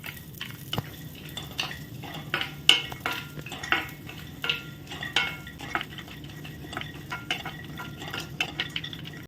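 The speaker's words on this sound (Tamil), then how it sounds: "இப்போ எல்லா சீட்ஸையுமே ஒன்றா சேர்த்துக்கலாம். லோ ஃப்ளேமில் வச்சுட்டு ரோஸ்ட் ஆகிற வரைக்கும் நல்லா வறுத்துக்கலாம்." Seeds and nuts roasting in ghee in a pan over a low flame, with a steady soft sizzle under repeated scraping and clinking of a spoon stirring against the pan, close and continuous.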